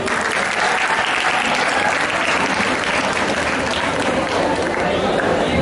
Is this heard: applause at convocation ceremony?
yes